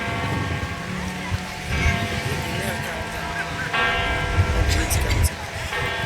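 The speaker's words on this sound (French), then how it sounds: "On arrive juste pour la cloche." Church bells ring continuously in Savona, with sustained, overlapping tones, while people talk nearby and outdoor noise rumbles underneath.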